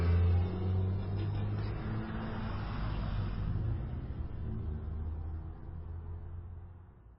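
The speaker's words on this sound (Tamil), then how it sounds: "தனது காரை எடுத்துக்கொண்டு அங்கிருந்த மின்னல் வேகத்தில் புறப்பட்டாள்" A car speeds away fast, its engine rumbling loudly and steadily for several seconds before fading slightly at the end, with no talk.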